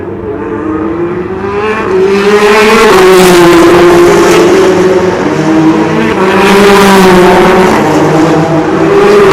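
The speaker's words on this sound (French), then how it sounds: "La voiture au ralenti rentre au stand." An Audi race car at the 24 Hours of Le Mans, at night, rolls slowly into the pits. Its engine holds a loud, close, steady low drone with gentle pitch wobbles and swells.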